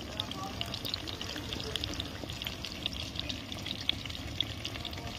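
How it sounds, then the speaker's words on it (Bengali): Chicken pakora deep-frying in oil over low heat, giving a continuous, even bubbling sizzle at moderate level with scattered crackles throughout. "একদম হালকা আঁচে ভাজতে হবে এটা, যেন ভেতর থেকে সেদ্ধ হয়ে আসে"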